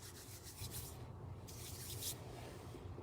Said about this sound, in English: I'm going to rub it on my skin like this.